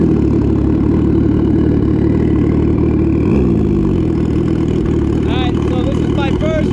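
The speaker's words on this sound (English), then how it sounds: "this is my first ride on a turbo ski" A turbocharged Sea-Doo jet ski engine runs with a steady loud droning rumble close by, holding a constant throttle throughout, with some faint higher tones and whistles entering near the end.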